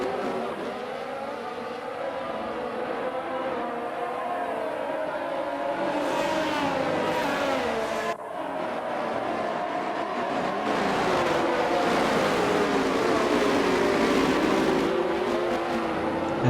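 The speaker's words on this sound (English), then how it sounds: "Liam Jensen had a poor getaway off the line and finds himself fighting for position with the Mercedes and McLaren." Formula 1 cars in a racing game accelerating away from the start at Bahrain, with a dense, continuous howl of several high-revving engines rising and shifting pitch, loud and steady.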